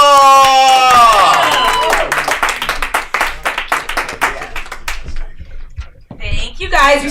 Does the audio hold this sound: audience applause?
yes